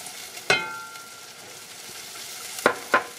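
Flour being stirred into sauce in a hot pan, a low steady sizzle with a few sharp scraping clinks of the utensil against the pan, close and clear.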